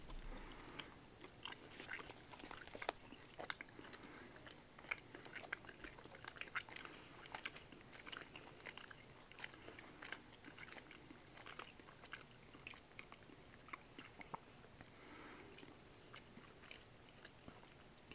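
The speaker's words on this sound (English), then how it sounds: "And give her a chew." Soft, steady chewing and biting on cola-flavoured gummy candy made with beef gelatin, a continuous faint, close, moist mastication with small crunchy clicks and no talking.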